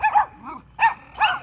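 Several dogs bark nearby in three sharp, loud bursts separated by brief pauses, the sound of a noise-ordinance complaint about a pack of nine dogs.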